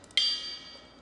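A single bright metallic ping from a cymbal bell, sharp attack followed by a short shimmering ring.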